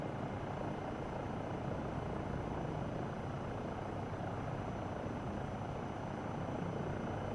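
Default helicopter in Microsoft Flight Simulator, flying over mountains toward Yosemite, gives a steady, loud rotor and engine drone with a dense, even texture that holds throughout, with no talking over it.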